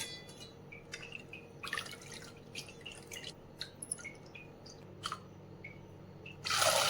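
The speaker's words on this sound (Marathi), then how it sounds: "आता हे तिसरं पाणी टाकते मी." Water is poured over lentils (dal) for a third rinse: scattered faint drips and small clinks, then a louder rush of pouring water at the very end, all quiet and close without speech.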